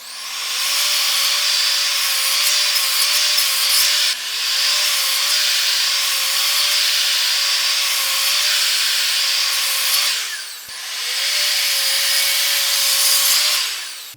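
Evolution R255 SMS+ sliding miter saw slicing through a thick piece of walnut, three loud sustained cuts with the motor whine dipping between passes, no talking.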